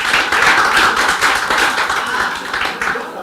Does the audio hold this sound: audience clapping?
yes